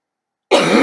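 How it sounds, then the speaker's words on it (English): A single sharp cough bursts in abruptly after a moment of silence, loud and close. "You're going to have to deal with me coughing a bit today."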